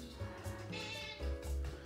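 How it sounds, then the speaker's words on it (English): A house cat meows in a home kitchen while someone bakes a carrot cake. Several short, soft meows come one after another, close by but faint. "My cat obviously wants to be involved here."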